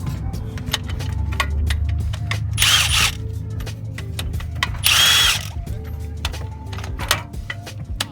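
A small impact wrench works on transmission bolts of a 1995 Ford Mustang 5.0 GT, two loud, close, rattling bursts against a garage background hum.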